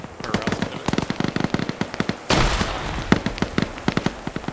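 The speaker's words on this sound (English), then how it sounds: "More grenades being thrown." Grenades detonate amid rapid gunfire in a multiplayer shooter match: a dense string of sharp cracks and pops, then a heavy broadband blast around the middle, followed by more scattered shots.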